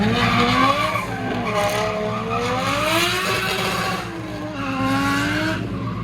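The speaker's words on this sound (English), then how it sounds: "That's a crazy burnout box." A race car does a burnout in a burnout box at a track, its tires squealing and skidding loudly with wavering pitch over a revving engine, steady throughout and with no talk.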